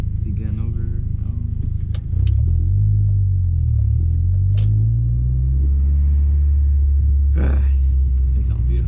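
An Audi B6 A4 with a full ECS catback exhaust drives at night, a loud, deep exhaust drone that swells and rumbles steadily from inside the cabin, with a voice speaking over it.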